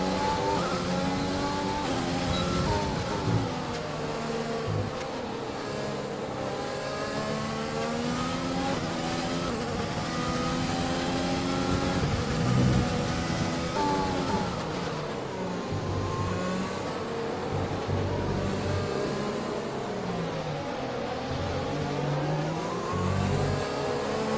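A Formula One car in the F1 2020 racing game pulls out of the pit lane, its engine loud and continuous and rising and falling in pitch through the gears, with no voices over it.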